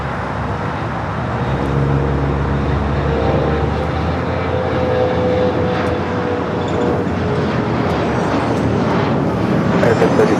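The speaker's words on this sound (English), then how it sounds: "All right, the American Dreamliner heading to Miami" An American Airlines Boeing Dreamliner jet powers up for takeoff at LAX, its engines making a loud, sustained broadband roar that steadily builds and stays close throughout, with no voices over it.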